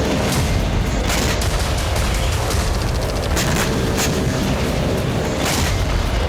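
Heavy booms and blasts from Ukrainian suicide drones and missiles striking Sevastopol, Crimea roll over a continuous loud rumble, with repeated sharp cracks punctuating the roar throughout.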